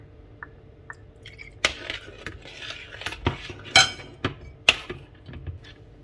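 A spoon clinks against a bowl as fish sauce is added to a bao salad dressing. Sharp metallic taps and scrapes come close and irregular, with soft wet stirring between them and no talk.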